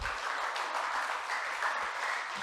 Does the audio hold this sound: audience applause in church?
yes